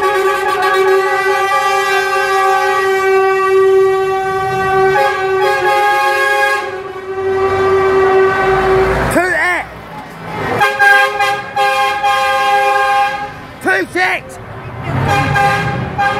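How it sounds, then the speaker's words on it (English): A long sustained air horn blares from a passing truck in a long convoy in Dunstable, followed by rumbling engines and more short horn blasts, with people talking nearby. "It's a really long convoy, this."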